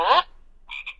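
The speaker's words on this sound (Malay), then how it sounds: "Katak." A recorded frog croak plays from a children's animal sound book: one short, raspy croak, then a quieter, thinner double chirp after a brief pause, close and clear with no voices.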